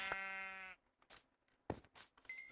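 A blocky sandbox video game sheep gives a clear, close bleat, followed by a few short soft clicks and thumps from the game.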